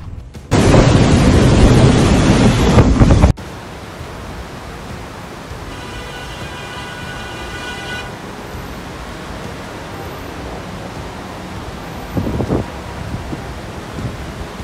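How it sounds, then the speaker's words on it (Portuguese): Hurricane-force storm winds in Panama roar in one loud, dense gust for about three seconds, then drop to a steady quieter rush with a brief low rumble later on. "Olha só a força dessa tempestade que atingiu o Panamá."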